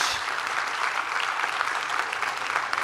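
A crowd claps steadily, a dense patter of many hands filling a room without a break.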